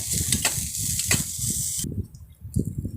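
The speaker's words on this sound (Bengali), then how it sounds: "এরপর দিয়ে নেবো আমরা কাঁচা লঙ্কা, দিয়ে একটু নেড়ে নেবো" Green chillies being stirred in a frying pan for a potol dish, with steady sizzling and scraping strokes that briefly quieten before resuming, close and alone.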